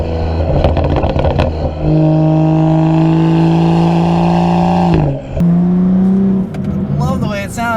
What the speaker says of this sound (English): And this exhaust though is fantastic.